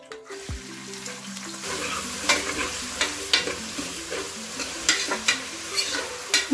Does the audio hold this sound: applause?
no